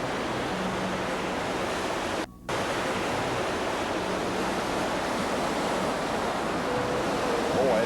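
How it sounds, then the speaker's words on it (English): Heavy flow of water rushing down a cascade on a hike, a loud steady broadband roar filling the whole clip with no pauses and no voices. "That's quite a bit of water coming down today too."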